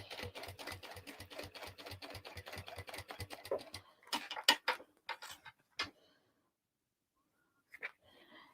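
A sewing machine runs a quick, even chain of needle strokes as it sews a basting stitch on a Vicky May bag, then stops and gives a few scattered clicks, soft and close.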